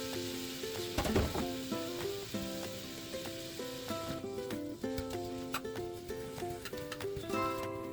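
Onions sizzle in a pan for empanada filling, a soft, steady frying hiss kept low beneath louder background music with a stepped melody.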